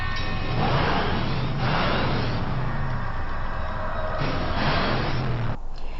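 A growling truck engine from a Supernatural episode roars past in loud, close surges, two long revving passes with rising and falling pitch over constant road rumble.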